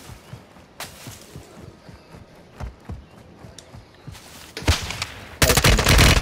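A video game shootout against a sniper fills the air with a steady string of distant-sounding gunshots, then a few louder close cracks and a heavy final burst.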